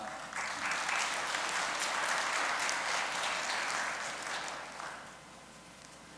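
Sustained audience applause welcoming a speaker at a church gathering, a dense, steady clapping from a room full of people that holds for several seconds, then eases and thins toward the end.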